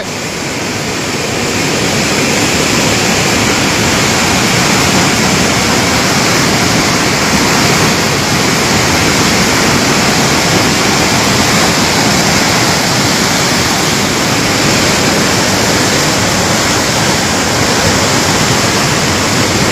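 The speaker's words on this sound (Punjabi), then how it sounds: "ਨਕਸ਼ੇ ਵਾਲੀ ਕੰਧ ਤੇ ਪਾਣੀ ਚੜ ਗਿਆ" A constant, powerful roar of rushing floodwater fills the scene, loud and unbroken throughout.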